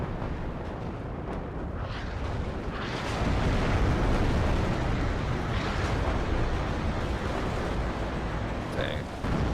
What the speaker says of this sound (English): Here comes some HE. That'll should do some damage. Completely obliterates that building.